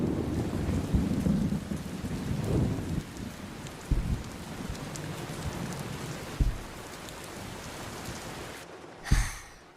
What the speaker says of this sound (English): I wish it would stop raining so I could go outside.